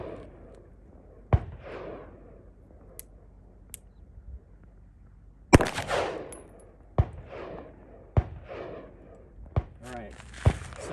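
A 2022 FN High Power pistol fires several sharp shots at an outdoor range, sounding as single irregular cracks a second or two apart, with quiet talk and handling noise between them.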